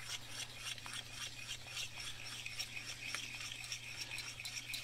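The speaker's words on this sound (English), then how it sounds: "This is a whisk." A metal whisk scrapes and rubs steadily through creamed spinach sauce in a pan, a continuous close rasping stir with small irregular strokes, no talking.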